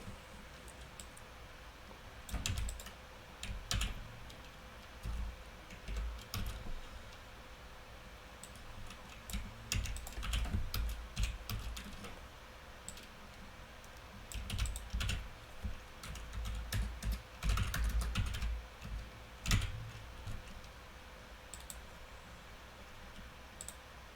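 Someone types on a computer keyboard while working through coding problems, with quiet, irregular bursts of key clicks separated by pauses.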